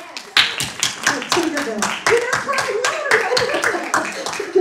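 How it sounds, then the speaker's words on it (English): A church congregation at a Sunday Advent service claps their hands in a steady, rhythmic beat, close and lively, with a voice briefly calling out over it. "If so, clap your hands."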